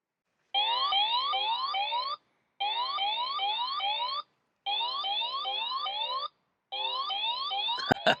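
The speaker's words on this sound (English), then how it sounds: "I have activated the alarm on this bike, and this is what happens when it's moved." An anti-theft alarm on an Urtopia Carbon 1 ST carbon electric bike sounds when the bike is moved, four loud bursts of rising, warbling electronic tones with short gaps between them, ending in a clunk.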